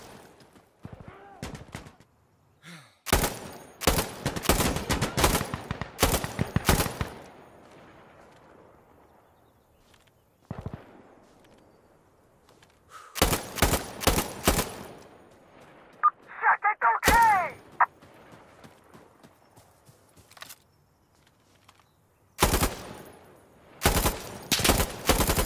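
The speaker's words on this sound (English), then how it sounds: "Machine guns like the SAW or M249 and the RPK are also hilariously awesome." Machine guns, an M249 SAW and an RPK, fire in bursts of loud rapid shots in Insurgency Sandstorm, separated by quieter gaps with distant battle noise and occasional single shots.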